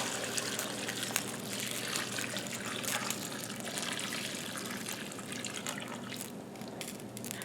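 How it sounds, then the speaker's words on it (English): Water poured into a pot over chopped potatoes and celery, a soft continuous trickling and splashing stream, quiet and close, with no voices. "I'm just going to cover it with water"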